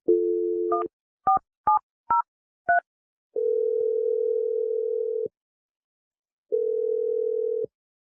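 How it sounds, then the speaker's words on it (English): A telephone being dialed: five short two-tone keypad beeps in quick succession, then a long steady tone, a pause, and a second long tone, all clean and close with no talk. "I'm dialing her number right now."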